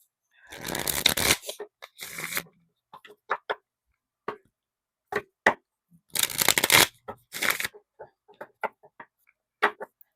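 Tarot cards are shuffled in short, crisp riffling bursts, two longer flurries and many small taps and slides between them, close and fairly quiet with no talking.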